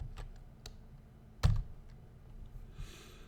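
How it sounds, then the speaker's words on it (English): Quiet typing on a computer keyboard for a spreadsheet formula, a few scattered key clicks with one firmer tap in the middle, close and alone. "we just type in an example"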